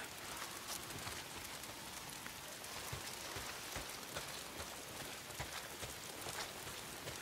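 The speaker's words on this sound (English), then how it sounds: "If it's not the freaks, it's the goddamn rain." Steady rain pours down without pause in the video game Days Gone, a dense hiss with scattered drops pattering close by, no voices.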